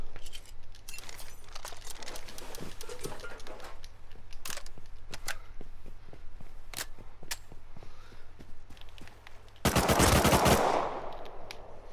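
Rapid AK and MP5 gunfire in a helicopter-themed video game: scattered sharp shots and clicks over a low steady hum, then a loud sustained automatic burst near the end.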